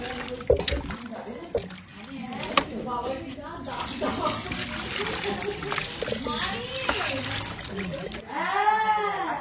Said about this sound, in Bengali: চিকেন পকোড়ার জন্য চিকেনটা চলছে ধোয়া